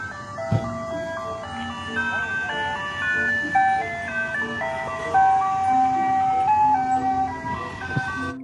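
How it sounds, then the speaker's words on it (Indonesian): A toy ice cream truck plays its tinny, looping electronic jingle up close, a steady melody of bright notes with a couple of soft clicks and handling noises, and no talk over it. "Yang ini mobil es krim."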